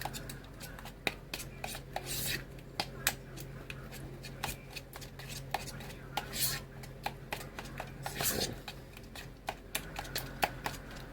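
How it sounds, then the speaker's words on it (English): Mashed bananas and coconut flour being stirred together in a bowl, scraping and soft clicking strokes repeating irregularly, close and quiet, with someone talking at times. "we're just going to mix that up real good"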